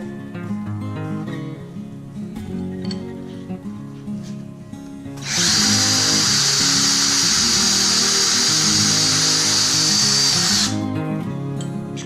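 A small drill with a steel wire brush attachment whines loudly and steadily for about five seconds as it scrubs rust off a vintage S.A. Wetterlings hatchet, following quieter handling noises.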